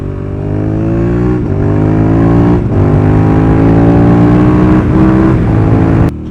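A sport motorcycle revving hard on a racetrack during a track day: loud, close engine roar with repeated rising pitch sweeps between brief dips as gears shift, heard alone.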